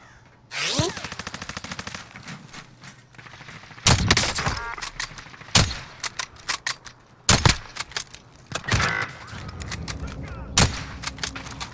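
Video game gunfire comes in sharp, loud bursts and single shots, spaced irregularly with short quiet gaps between volleys.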